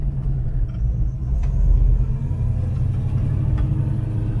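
A 1968 Ford Mustang GT Fastback engine rumbles steadily while driving on a dirt surface, a deep, loud, continuous low drone close by.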